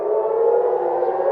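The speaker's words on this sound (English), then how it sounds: "sirens blasted across nearly all of Israel, warning of coordinated attacks from Hezbollah and Iran" Civil defense air raid sirens sounding across Israel during coordinated attacks from Hezbollah and Iran, a loud, steady wailing tone held without a break, with no voices.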